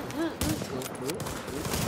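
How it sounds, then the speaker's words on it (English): Gunfire in a shooter video game, a rapid flurry of sharp shots under overlapping speech and a pitched voice. "Oh yeah, shotgun."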